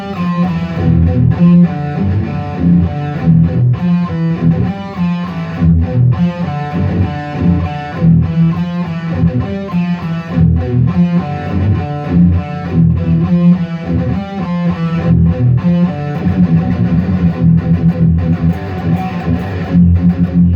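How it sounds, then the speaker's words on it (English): Heavy distorted electric guitar riffs from the bridge humbucker of a G&L Legacy HSS chug continuously and loudly, thick and crunchy, with palm-muted rhythms and no talking. "So plenty of chunk there in the bridge pickup,"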